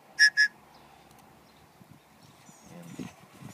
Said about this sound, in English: And Topps knife whistle.